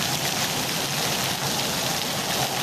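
Steady rain falling, a dense uniform wash of hiss with no breaks, close and fairly loud, no voices.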